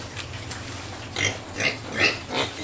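Pigs on a pig farm at a community development center, several short, nasal grunts and squeals rising in four bursts over quiet background, fairly close and moderately loud.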